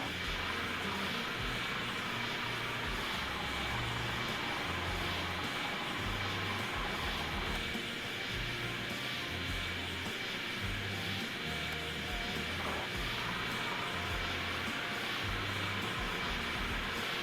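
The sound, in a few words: airplane landing in video game Airport Simulator 2014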